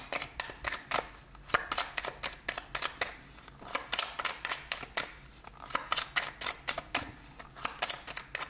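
Tarot cards being shuffled for another draw, a rapid series of crisp riffling and snapping bursts repeating steadily throughout, close and clear with no talking.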